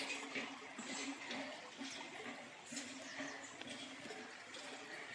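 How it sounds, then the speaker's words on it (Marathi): Water gushing and splashing steadily from a hand pump beside a small stream, a continuous rushing pour with faint rhythmic surges, fairly close. "पाणी हापसत आहे हापशावरती"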